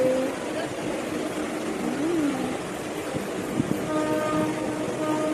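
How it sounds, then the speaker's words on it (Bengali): A train rumbles past with a continuous rolling roar, a horn sounding through it and a faint clatter of wheels, fairly close. "এই দেখো ট্রেন, ট্রেন।"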